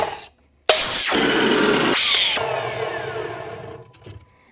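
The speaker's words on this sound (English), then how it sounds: "what we're going to be doing is cutting off the corner right here" A miter saw cuts off the corner of a wooden board: a sharp motor whine bursts up, a second harsh cutting surge follows, then the blade spins down and fades out.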